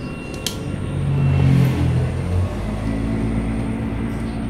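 A rumbling engine from the monster-train game Choo Choo Charles swells up and then settles into a steady low drone, with no talking over it.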